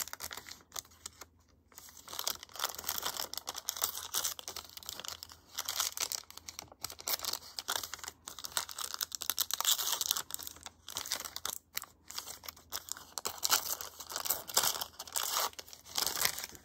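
Tracing paper being crumpled and handled while sample cards are made with lace and fabric, a steady close-up crinkling and rustling with sharp tearing-like bursts running throughout, no voices.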